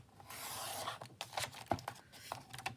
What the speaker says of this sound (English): So let me do it with my trimmer so we can get the lines straight as we can anyway.